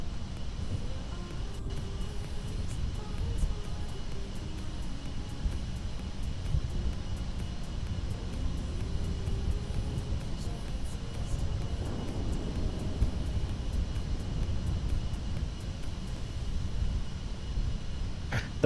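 A game aircraft's engine drones steadily while the plane taxis in Kerbal Space Program, a constant low hum with faint periodic ticking that runs unbroken throughout.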